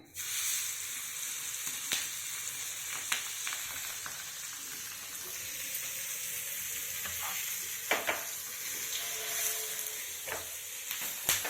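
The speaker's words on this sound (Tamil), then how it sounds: "இப்போ ஃபிஷ் ஃப்ரை பண்ணுற பாருங்கள்" Fish pieces coated in masala with curry leaves fry in a pan, giving a loud continuous close sizzle with scattered crackles and occasional stirring clicks. No voices are present.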